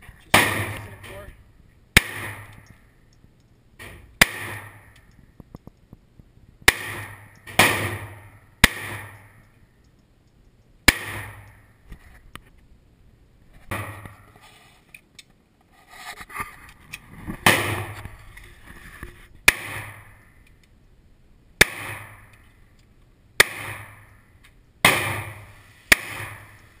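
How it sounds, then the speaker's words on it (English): A Walther P22 .22 caliber handgun fired at a shooting range, with about a dozen sharp, fairly light reports spaced unevenly across the span and some quieter sounds between them. "firing the P22 Walther 22 caliber handgun"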